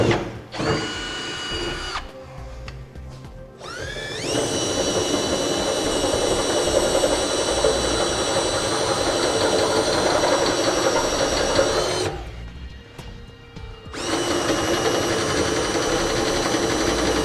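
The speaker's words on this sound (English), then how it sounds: "we're going to use a smaller pilot bit first and use the step bit process, enlarging to our final size of a 1/2 inch" Power drill with pilot and step bits boring holes through the pickup bed of a 2001 GMC Sierra, a loud steady whine in long runs separated by brief stops, close and without talk.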